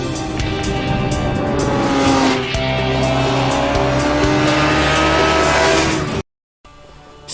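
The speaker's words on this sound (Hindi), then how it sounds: "So the GP bike goes flying across the finish line, and then 1, 2, 3, there goes the street bike." A GP racing motorbike roars across a finish line, followed moments later by a street bike speeding past. The engine noise is loud and continuous, with shifting pitch sweeps as they pass, then cuts off abruptly near the end.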